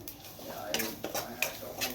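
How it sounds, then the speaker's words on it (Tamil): Soft scraping and clinking of a spoon stirring turmeric powder in a pan, with light metallic taps in an irregular rhythm, faint and close. "லேசும் மஞ்சத்தூள் போட்டு நல்லா வதக்கிக்கணும்"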